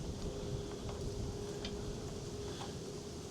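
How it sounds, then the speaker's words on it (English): Wind blows across an outdoor sawmill setup, producing a steady, low rushing roar and buffeting against the microphone throughout, with a few faint clicks on top and no talk. "There goes the wind."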